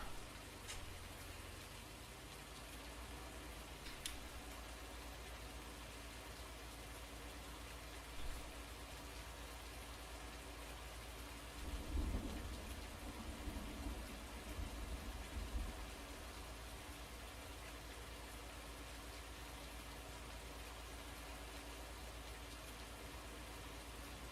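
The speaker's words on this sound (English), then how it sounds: "Rain pitter-pattering is quite nice." Steady, soft rain pattering in Farming Simulator 19, a faint even hiss of drops that continues without a break across the whole stretch, with a few slightly louder moments partway through.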